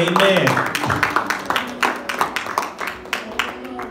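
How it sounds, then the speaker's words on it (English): A church congregation clapping in rapid, steady rhythm at a Bible study, sharp claps dense at first and then thinning into spaced beats, with a voice over them. "Give God a hand clap."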